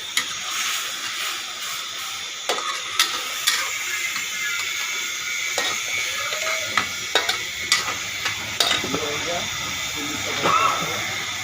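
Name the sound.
fried potatoes sizzling and stirred in a pan for chilli potato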